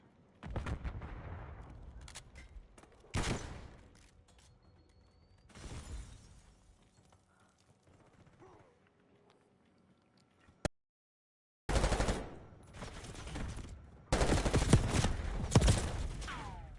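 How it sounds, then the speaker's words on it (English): Sharp gunshots crack out in irregular bursts, some single reports and some rapid clusters, separated by quieter stretches and a brief total silence, with the final volleys dense and loud. "I don't know what them shots were"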